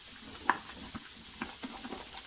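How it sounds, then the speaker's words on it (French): A whisk stirs water and flour together for harira soup, giving soft, irregular swishes and small clinks against the bowl over a constant high hiss. "on mélange l'eau et la farine pour faire la liaison de la harira"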